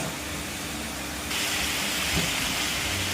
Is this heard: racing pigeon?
no